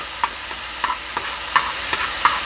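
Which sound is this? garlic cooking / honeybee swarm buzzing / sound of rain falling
garlic cooking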